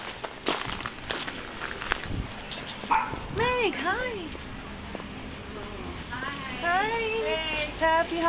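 Dog at a sailor's surprise homecoming gives several short yips and whimpering barks, fairly near, over a busy background of footsteps and people talking.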